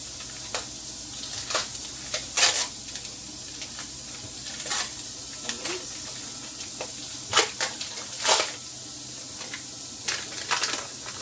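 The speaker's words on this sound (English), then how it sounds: "Throw my onions in there. Onions going in." Onions sizzling and frying in a hot pan while cooking chicken fried rice, a steady crackle with repeated louder bursts of spattering close by, no talking.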